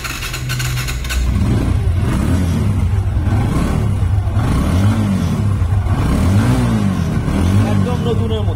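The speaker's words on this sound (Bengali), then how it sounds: "যদি বাইকটা আমরা চালু করে দেখি, সেই ক্ষেত্রে সাউন্ডটা কিরকম আমরা দেখব।" A well-kept motorcycle with about 5,108 km on it idles and revs in a few rising and falling swells, its engine note steady and near throughout.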